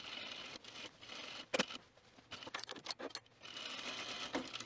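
A sewing machine stitching a quilted puffer vest from top to bottom, running in close, loud whirring bursts separated by short pauses, with a sharp click in between.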